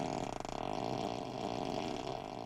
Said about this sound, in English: you can activate each seat so that when someone sits on it, as you can hear, it makes a farting sound